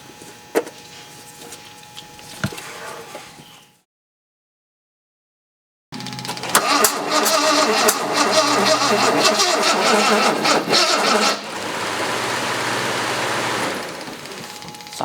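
A Jaguar E-type engine cranks, then catches and runs: faint clicks give way to a short silence, followed by a loud, steady cranking-to-running roar that settles into a lower, even drone near the end.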